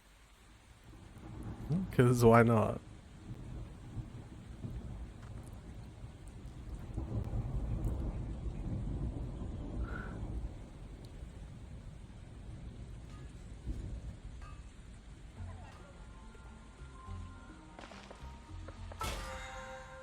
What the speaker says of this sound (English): Rainy sounds.